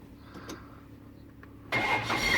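A Jaguar E-Type Series 1 Fixed Head Coupe engine cranks and fires after a quiet pause, then settles into a loud, close, rumbling idle.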